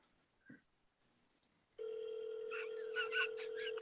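A phone rings on an incoming call, a steady electronic tone that starts abruptly and continues with warbling higher notes, loud and close after a quiet lead-in with a brief faint sound.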